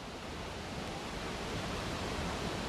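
A waterfall's spray and rushing water form a loud, steady, dense roar that fills the whole stretch without pause, with no voices.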